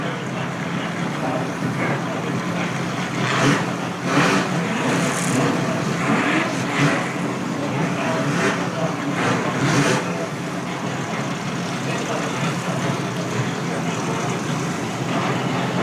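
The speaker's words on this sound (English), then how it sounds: "Then Chaz Skipworth, Donnie Davis, and so they roll through the second row of cars." Street stock race cars roll past in a grand parade at a state title night, a loud continuous engine rumble with several cars swelling and fading as they pass, an announcer talking over them.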